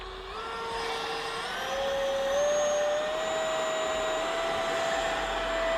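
A small 50mm electric ducted fan in an RC park-flyer jet whines at full throttle, a steady loud near tone rising slowly in pitch as it spools, heard alone.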